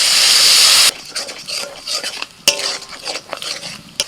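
Ground turmeric, red chilli and coriander powders stirred with a splash of water in a pan, loud water-hitting-hot-pan sizzle for the first second, then quieter scraping and stirring clinks with soft sizzling.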